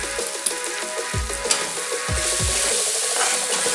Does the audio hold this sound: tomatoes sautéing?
yes